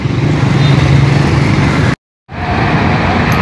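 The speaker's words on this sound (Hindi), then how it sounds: "यहाँ पर रश ट्रैफिक देखें आप लोग ज़रा।" Rush-hour traffic on a busy Karachi road: a loud, close rumble of cars and heavier vehicles with engine drone, cut by a brief silent gap before the din resumes.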